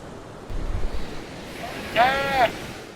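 Ocean surf at Devgad beach beside the fort, a steady wash of waves and wind across the shore, with brief voices in between and wind buffeting the microphone.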